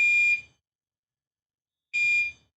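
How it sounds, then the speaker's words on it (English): Building fire alarm sounding loud and near, two identical harsh electronic tones about two seconds apart with silence between, no voices. "Why is the fire alarm going off?"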